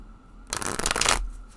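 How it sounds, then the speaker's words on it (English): Tarot cards shuffled overhand, a dense papery riffling flutter lasting under a second, close and fairly loud against a quiet room, with no talking. "Okay, so shuffling. Shuffle how you want to."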